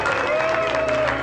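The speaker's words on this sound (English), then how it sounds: "Applause for everybody." Applause from a film cast and crew gathering, a steady dense wash of clapping filling the whole moment with a faint sustained tone running through it.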